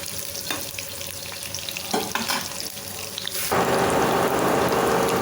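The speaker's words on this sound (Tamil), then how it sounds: "நல்லா இப்படி கலந்து விட்டுக்கங்க." Soya 65 chunks fry in masala while a spoon scrapes and stirs them, with clinks and scraping that give way to a louder, steady sizzle near the end.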